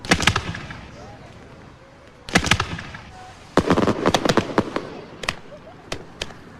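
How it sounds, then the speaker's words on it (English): A televised fireworks show going off, with bursts of sharp crackling explosions in irregular clusters, some single loud bangs and rapid crackle runs, fairly close and loud over a low background hum. "Time to spice things up with a fireworks show"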